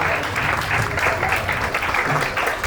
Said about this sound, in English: Let's give them a big, warm welcome. Round of applause.